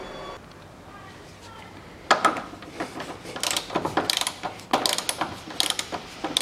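Ratcheting wrench loosening front strut top-mount bearing bolts on a Volkswagen Passat B6, with sharp repeated clicking bursts and metallic knocks that grow busier after a quiet start, heard close up.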